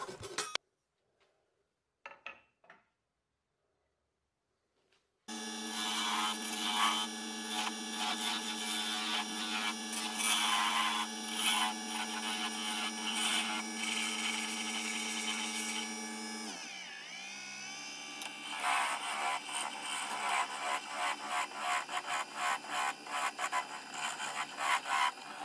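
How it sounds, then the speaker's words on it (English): A saw trims a wooden pizza cutter blank. After a few seconds of near silence and small knocks, a loud, steady, whining machine drone starts and runs on. Midway it briefly dips in pitch under load, then continues. "This one didn't want to come off easily, so I used my saw to finish it up."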